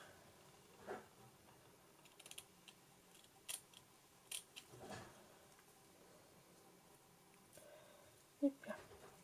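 Scissors cut a 30x30 paper sheet, giving quiet, sparse snips and crisp clicks spaced irregularly against a near-silent background.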